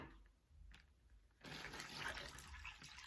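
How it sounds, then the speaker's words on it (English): Water runs and splashes steadily into a plastic bag, starting quietly then growing louder and fuller after a moment, with a rushing, bubbling texture. "you're gonna fill it with water"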